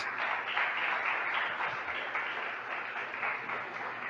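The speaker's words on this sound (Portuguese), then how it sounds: "Se assenta aplaudindo Jesus," A church congregation applauds in a steady, dense wash of clapping that carries on evenly throughout, filling the room without pause.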